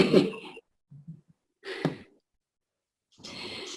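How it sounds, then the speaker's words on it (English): Heavy breaths come in short bursts separated by silence, a few puffs and exhales close to the listener, sounding like someone panting from exertion. "I'll listen to all the puffing and panting"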